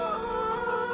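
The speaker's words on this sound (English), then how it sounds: "wow, chickens are keeping some noise guys" Chickens in the farming game Farming Simulator 25 give a short burst of layered clucking and squawking, close and fairly faint, with no talk over it.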